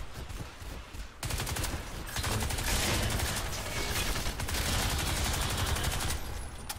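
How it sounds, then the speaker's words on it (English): Rapid, sustained automatic fire from a small SMG machine pistol in the shooter game Crysis 2, loud, dense bursts running several seconds after a brief lull, no talk. "I really like this SMG, this little machine pistol, rather"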